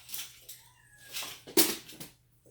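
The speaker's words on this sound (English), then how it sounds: "my cat's meowing because she wants to come downstairs" A house cat meows several times from upstairs, a string of faint, drawn-out cries spaced across the quiet room, one louder yowl in the middle.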